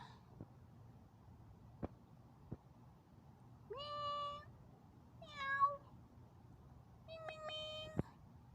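Thin stray cats outside near a parked vehicle meow at each other as if about to fight, three drawn-out, fairly faint calls spaced a second or so apart over a low background rumble with a few soft knocks.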